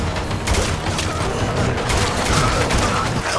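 Rapid gunfire crackles through a chaotic film battle scene, bursts of shots and booms layered over a dense, loud background of fighting with no clear pauses.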